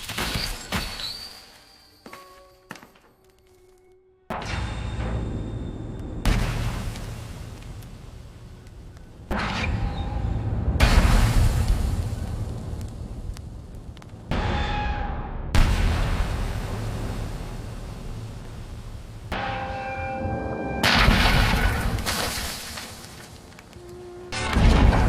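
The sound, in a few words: AI-generated explosion sounds from Kling 2.6 video model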